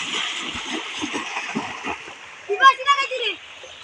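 River water splashing nearby in shallow water, a continuous rushing wash with a burst of louder splashes toward the end, while people talk over it.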